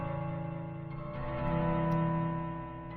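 A low-pitched acoustic guitar run through reverb and other effect plugins makes a sustained, swelling drone that blurs into a smooth wash with a faint warble, rising slightly in loudness toward the end and heard alone.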